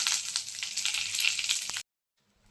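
A bay leaf and a dried red chilli dropped into hot mustard oil give a bright, hissing sizzle up close that runs steadily for a couple of seconds and then cuts off into silence.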